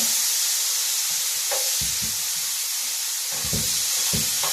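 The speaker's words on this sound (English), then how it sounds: "Fry these a little bit. They're getting a little bit mushy" Mushy bananas frying in a pan give a steady, loud sizzle and hiss, broken by several short scrapes and clacks as they are stirred and moved about.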